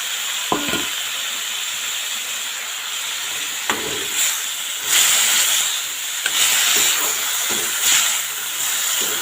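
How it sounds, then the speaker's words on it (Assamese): Chopped potatoes and tomatoes fry in a pan with a steady, close hiss and sizzle, broken by a few sharp clinks and scrapes of stirring, with brief swells of louder spattering. "এইখিনি মিক্স কৰি অলপ সময়ৰ কাৰণে মই এতিয়া ভাজি ল'ম"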